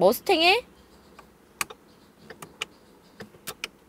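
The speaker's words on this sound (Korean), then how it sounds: "요런 딸깍딸깍 소리들, 요게 저는 굉장히 멋스럽고 마음에 들더라고요" Sharp interior clicks from a Ford Mustang convertible, a few quick ones at the start followed by sparse, spaced single clicks, fairly close with a faint hum behind them.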